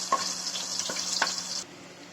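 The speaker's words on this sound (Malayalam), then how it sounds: "ഈ ഇഞ്ചി വെളുത്തുള്ളിയുടെ പച്ചമണം ഒക്കെ ഒന്ന് മാറി വരുന്നിടം വരെ നമുക്കൊന്ന് ചെറുതായിട്ട് വഴറ്റി കൊടുക്കാം" Chopped ginger and garlic sautéing in a pan for a clam meat fry, giving a bright, close, steady sizzle. A few soft stirring scrapes cut through before the sound stops abruptly near the end.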